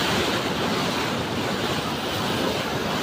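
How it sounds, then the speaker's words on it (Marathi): Fast river water roars over a small weir by a little bridge. The rush is dense and unbroken, loud and close, with no voice over it. "आणि पाणी एवढं स्पीडने येते बघा"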